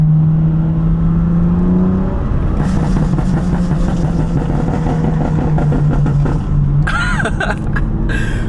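A BMW F80 M3 running a Bootmod3 tune gives a loud, continuous exhaust drone up close, with a steady low engine hum and bursts of crackling and popping toward the end.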